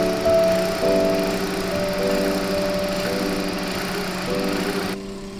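The engine of a 2003 Hyundai Santro Zip Plus runs at a steady idle, an even, close hum with a buzzing tonal whine that continues evenly before cutting off near the end.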